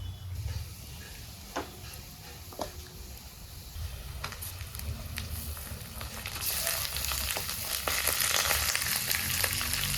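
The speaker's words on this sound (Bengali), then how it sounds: "চিকেনের সাথে পেঁয়াজ একসাথেই ভাজা হবে" Pieces of chicken fry together with onions in a pan, giving a steady, close sizzle that grows louder and brighter in the second half, with occasional stirring clicks.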